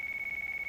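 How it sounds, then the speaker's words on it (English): A cell phone rings in the Yakuza 4 video game, a steady electronic tone held alone for under a second with a faint pulsing flutter. "Is that a cell phone ringing?"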